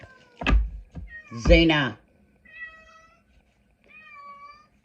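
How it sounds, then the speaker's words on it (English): A pet cat meows twice, a pair of thin drawn-out cries heard after a woman's close speech, which runs loud at the start and then stops. "My cat's meowing"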